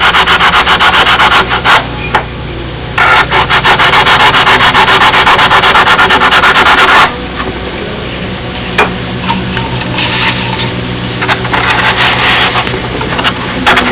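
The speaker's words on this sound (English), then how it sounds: "Sometimes all it takes is just a couple little cuts with the sandpaper." Sandpaper rubbing against a custom fiberglass cowling for a Spitfire build, loud close-up scraping strokes in long continuous runs with brief pauses between them.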